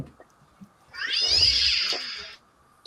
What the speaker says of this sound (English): That's a feisty cat, too.